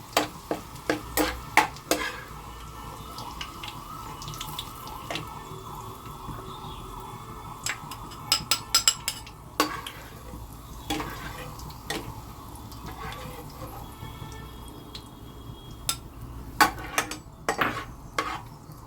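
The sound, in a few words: onions frying until light brown for daliya gosht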